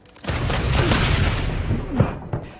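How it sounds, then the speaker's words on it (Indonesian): Film gunfire: a dense, continuous barrage roars close and loud, with a sharper shot standing out near the end. "Tak disangka, Anna menembak brutal para pasukan khusus sampai meninggoy."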